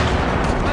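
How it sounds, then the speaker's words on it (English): Cannon and mortar fire during the 1757 French siege of Fort William Henry, a dense, loud burst of overlapping booms packed into under a second. "the French answer back with a burst of cannon and mortar rounds"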